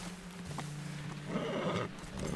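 A horse whinnies and neighs in the game Teardown, with a few clip-clop hoofbeats. The sound is moderately close and steady, and no one speaks.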